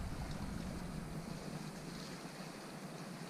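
A light puff of wind blows across a sailboat cruising Door County waters, a steady broadband rush of air and water against the hull that eases slightly toward the end, with no voices.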